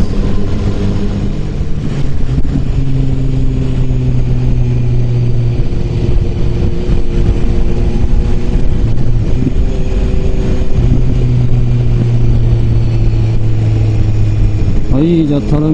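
A BMW S1000R motorcycle cruises on the road, its engine a steady, loud drone with sustained tonal hum and gentle pitch shifts, under continuous wind noise and someone talking over it.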